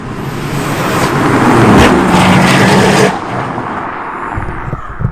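A Toyota A91 Supra with an XFORCE exhaust roars past loudly with a rising then falling exhaust note, peaking mid-pass before fading away, followed by quieter rumbling in the distance.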